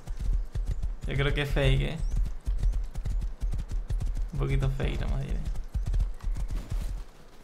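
Horse hooves clip-clopping in the survival video game Rust, a rapid steady trotting rhythm throughout, with someone talking over it.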